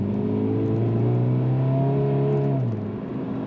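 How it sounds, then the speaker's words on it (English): Engine of a 2013 Scion FR-S pulling hard on a freeway, a steady rising drone with clear harmonic tones that climbs in pitch and then drops as the revs fall, heard from inside the car with no talking. "We are gonna go out and do another acceleration here."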